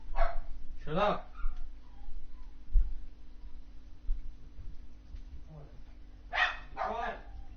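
A pet dog barks close by in short yappy bursts, a pair at the start and another pair near the end, with whimpering in between and a person shouting over it.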